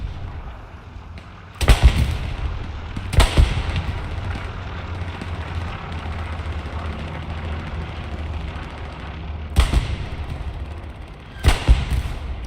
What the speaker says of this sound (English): Barrage for allies dropping in.